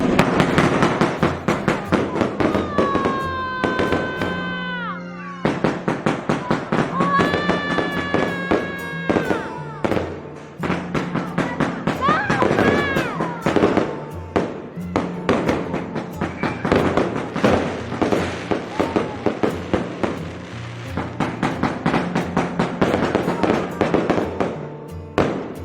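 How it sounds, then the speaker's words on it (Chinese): A long volley of fireworks at a Spring Festival family gathering crackles and bangs in rapid dense bursts, with whistling rockets rising through them and loud pops continuing throughout. "300多的烟花，看一下是什么样子的。"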